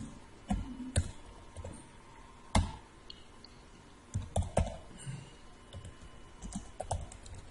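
Keys clack on a computer keyboard in short irregular clusters of taps, close and fairly quiet, with pauses between bursts and no talk.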